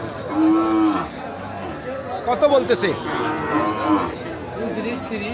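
Cow mooing at a cattle market in Madarganj, Thakurgaon, a thin local dairy cow for sale, with one long low moo near the start and a shorter one later, set among busy crowd chatter and people haggling close by.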